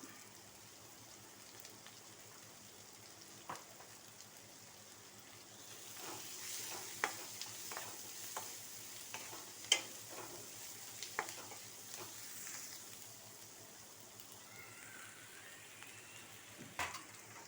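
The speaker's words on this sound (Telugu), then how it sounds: "కొంచెం సాల్ట్ వేస్తున్నానండి, తొందరగా మగ్గుతుంది ఆనియన్స్." Onions fry with salt in a pan, giving a faint, continuous sizzle broken by several soft scraping taps from stirring.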